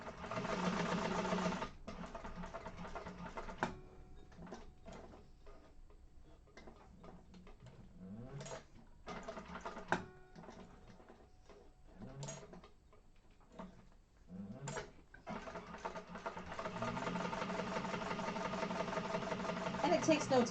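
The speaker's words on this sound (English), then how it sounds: "so we're going to top stitch this one first" A sewing machine top-stitches a zipper bag in short bursts of rapid, even stitching broken by pauses and small clicks, with a person talking quietly between runs.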